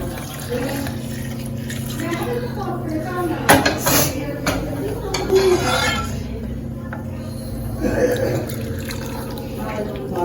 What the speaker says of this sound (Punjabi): ਹੁਣ ਆਪਾਂ ਪਾ ਲਾਂਗੇ ਚਾਹ